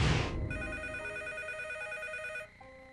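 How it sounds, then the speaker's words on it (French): An old landline telephone rings with a steady electronic trill for about two seconds after a short burst of noise, then cuts off into a brief lower tone. "Décrochez le combiné pour savoir qui est à l'appareil."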